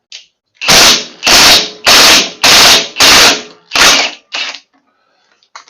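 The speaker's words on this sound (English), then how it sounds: "Loosen the nut on the flywheel." A tool loosens the flywheel nut on a John Deere L120 mower with a V-twin Briggs & Stratton engine, giving seven loud, close rattling bursts in quick succession, the last two shorter, then silence.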